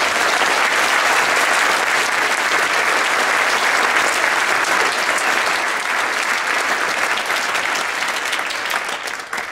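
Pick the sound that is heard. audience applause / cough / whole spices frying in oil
audience applause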